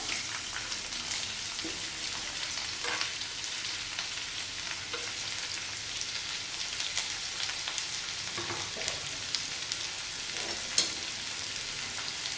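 Onion frying in oil with curry leaves, mustard seeds and cumin, producing a steady, fairly quiet sizzle with occasional stirring scrapes and small pops, close by and without talk.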